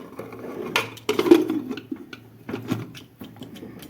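A metal lid clatters onto a pot of Gujarati dal on the stove, making a few close, sharp clinks and rattles with short pauses between them. No one speaks.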